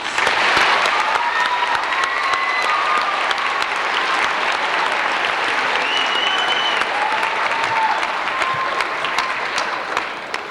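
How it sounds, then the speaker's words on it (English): A school band concert audience at a 1994 Christmas concert in Pampa, Texas, claps for band members in a loud, continuous round of applause, with scattered cheers and whoops rising above it. "they deserve a big round of applause"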